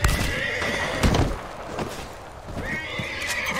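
Horses in the video game Red Dead Redemption II neigh and whinny loudly and close by, two distinct calls with clopping hooves and ambient game sound between them.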